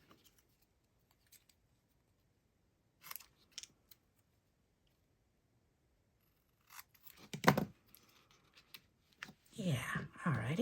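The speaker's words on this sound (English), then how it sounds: "Let's cut a corner to corner." Scissors cutting paper corners for a handmade card, a few short snips in quiet stretches, then a louder run of cutting and rustling toward the end, with soft speech now and then.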